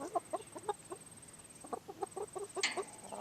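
A few backyard chickens shut in their coop cluck in quick, agitated bursts, close by and fairly loud, with a thin steady hum behind them and one sharper squawk near the end.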